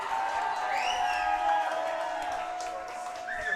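Bainbridge Island fans cheer and whoop at a girls' state semifinal basketball game against Snohomish, a sustained crowd roar with shrill whistles and shouts rising over it.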